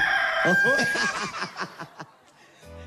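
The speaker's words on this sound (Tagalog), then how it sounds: "Manok." A rooster crows nearby, a rising then wavering cock-a-doodle-doo lasting about two seconds, followed by faint background noise.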